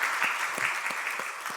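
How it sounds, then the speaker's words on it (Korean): A church congregation applauds at a Sunday worship service to welcome visitors, a steady, moderately distant wash of many hands clapping with a few sharper individual claps standing out, and no talking over it. "우리 박수 한번 주시면 감사하겠습니다."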